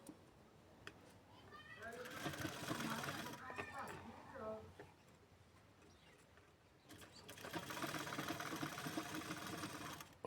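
Domestic sewing machine stitching a curved seam on a lined size-30 blouse, running in two bursts with a pause between as the presser foot is lifted, under someone talking in Hindi.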